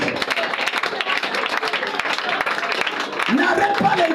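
Congregation clapping steadily through an intense prayer service, dense rhythmic applause mixed with voices praying aloud.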